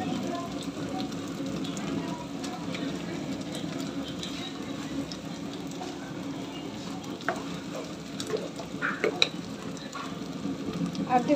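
Spices with salt and turmeric frying in a pan while being stirred, for a rohu fish curry, a steady close sizzle with scraping stir sounds that grow slightly louder toward the end.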